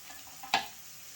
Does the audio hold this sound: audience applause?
no